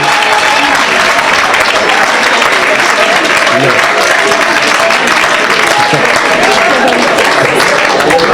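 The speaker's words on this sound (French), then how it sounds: "Acclamez pour Jésus." Loud, sustained applause from a church congregation, dense clapping that fills the whole stretch at an even level, with voices mixed in beneath it.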